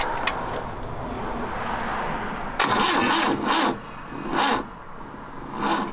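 A car engine with a weak battery or possible ground fault is cranked, giving a steady whirring turnover that surges in several uneven bursts, close and fairly loud, with no voices.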